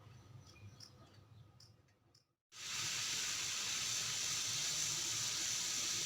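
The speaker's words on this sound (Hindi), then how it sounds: "अब मैं उसमें छिलके ऐड करूंगी और 5 मिनट के लिए उबालूंगी" Orange peels boiling in water in a pan: faint bubbling and hiss at first, then after a brief drop to near silence, a loud, steady broadband rush of boiling and steam continues to the end.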